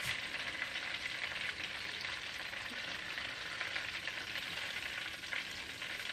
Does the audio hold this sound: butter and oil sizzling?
yes